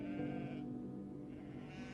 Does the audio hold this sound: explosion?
no